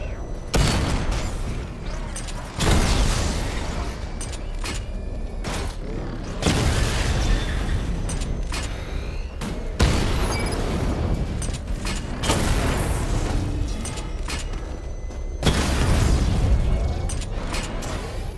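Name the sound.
missile barrage explosions in the video game Batman Arkham Knight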